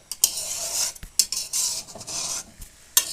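A spoon scrapes and clinks against a pan as cashews and raisins are stirred through sugar water, giving irregular sharp metallic taps and swishing sweeps, close and fairly quiet with no talk.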